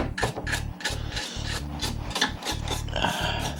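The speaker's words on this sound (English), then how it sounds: "So I'm just getting off all the sawdust." Brushing sawdust and wood shavings off the repaired wooden stock of a VZ-52 rifle gives close, repeated rasping strokes in a steady rhythm, with no talk.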